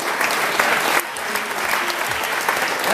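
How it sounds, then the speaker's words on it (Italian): Audience applause at a film award ceremony, loud continuous clapping from a crowd filling the whole stretch without pause. "Un bel applauso."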